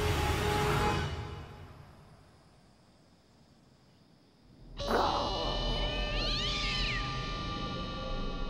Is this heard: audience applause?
no